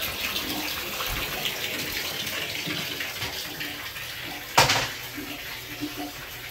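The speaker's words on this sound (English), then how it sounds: "You turned on the hot cold water?" Water runs from a turned-on hot and cold tap into a tub or basin, a steady hiss of flow with a brief louder splash midway, fairly close.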